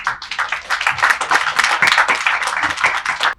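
A film team stands and claps for the media at a movie success meet, sustained loud applause from many hands that stops abruptly at the end.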